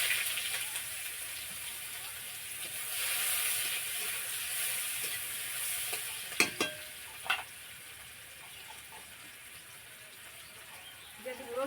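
Chopped onion frying in oil in a village kitchen for a rohu fish curry: a steady soft sizzle and crackle, with a few sharper clinks of a utensil stirring the pan near the end.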